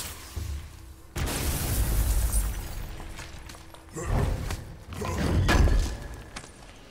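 An explosion shattering ice in God of War bursts with a heavy thud and crackling shatter, followed by more crunching blasts and debris, moderately loud.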